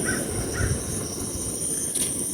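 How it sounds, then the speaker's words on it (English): Crows caw outdoors near an open-air table where food is laid out. Several short harsh calls come from a moderate distance over a low background hum, and no one speaks. "the table because I hear the birds."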